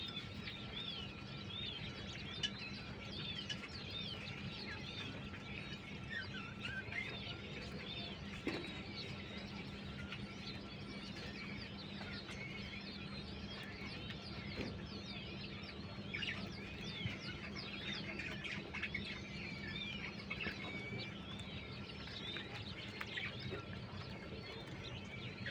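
King quail birds and chicks for sale on a farm give faint, constant high chirps and peeps, many small calls overlapping above a steady low hum throughout.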